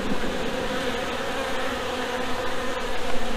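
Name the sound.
honeybees buzzing at a hive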